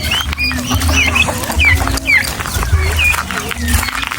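Free-range chickens on a farm cluck and chirp in short, scattered calls at moderate distance, with a voice and steady low background noise underneath.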